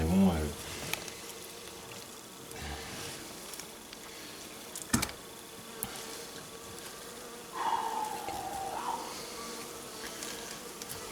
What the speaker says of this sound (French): il y a un peu d'abeilles avec, quoi